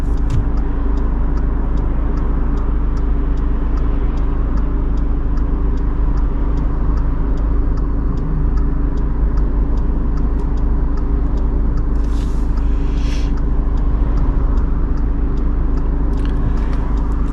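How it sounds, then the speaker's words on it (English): Cars pass a junction on a 30 mph road in West Didsbury while a vehicle waits to pull out. Their engines make a steady, continuous rumble, and a faint regular ticking runs beneath it. "So all these cars driving, they're driving approximately 30 miles an hour."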